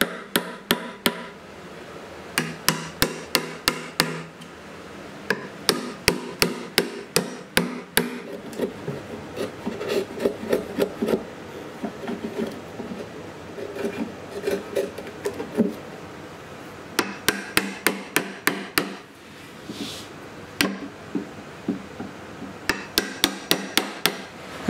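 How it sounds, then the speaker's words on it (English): Chiseling wood while building a stand for a Pantorouter XL: bursts of sharp, rhythmic mallet-on-chisel strikes in quick runs, separated by quieter scraping and paring, close and clear with no talk. "I can start chiseling this away"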